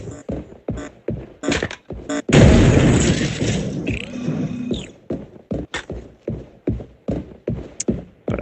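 A gunshot or explosion in the video game Sweet Surrender, a loud booming burst that decays over about two seconds, framed by rapid rhythmic clicks and short game effects before and after.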